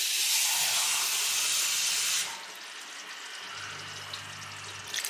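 Water poured from a glass into a pan of tomato mutton curry gives a loud, steady broadband rush for about two seconds, then drops to a softer hiss and simmer with a low hum near the end.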